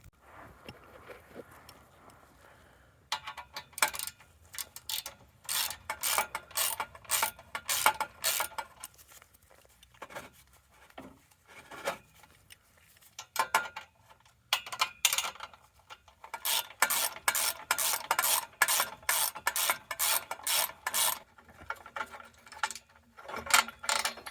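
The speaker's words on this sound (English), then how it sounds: "It's just 3 nuts and bolts to undo, wiggle that loose, and then I should be able to drop that section out." Nuts and bolts undone with a ratchet on a 1994 Jaguar XJS V12, with bursts of rapid clicking from the ratchet pawl broken up by quiet pauses, close by, no talking.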